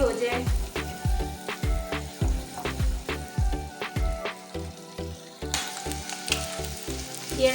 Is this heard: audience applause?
no